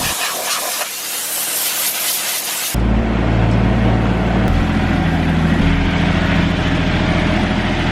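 A diesel-powered farm sprayer bursts into a loud, steady hiss of spray after a quieter stretch of engine idle, with the engine droning continuously beneath the spray.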